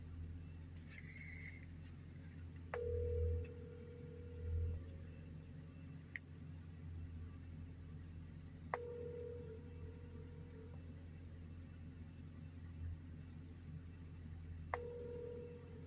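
An outgoing phone call rings on the line, three separate long tones spaced several seconds apart, faint and thin over a low rumbling background.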